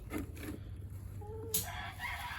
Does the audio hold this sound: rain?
no